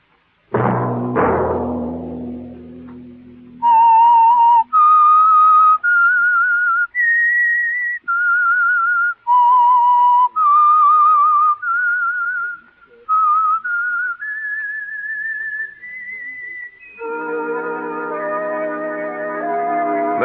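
A whistled theme tune serving as the signal for the Signal Oil radio program The Whistler, a clear solo melody of sustained notes rising and falling in phrases, ending on a held chord, after a brief low thump at the start.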